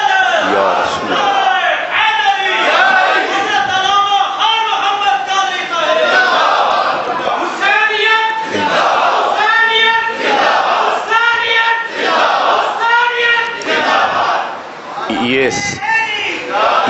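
A large religious gathering chants slogans in unison, loud, rhythmic call-and-response shouts from many voices rising and falling continuously, close and filling the space.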